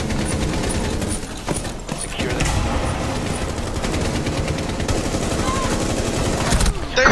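Rapid gunfire crackles through a Rainbow Six Siege round, with dense close bursts and sharp single shots running nearly nonstop, mixed with game noise and a voice talking.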